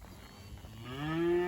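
A single drawn-out moo from calves being moved toward pens at a walk, rising and swelling near the end over faint outdoor background.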